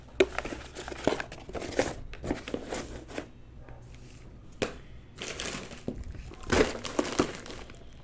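An old paper bill crackles and crumples in the hands in several bursts of crinkling, with short pauses between handlings, close and fairly loud.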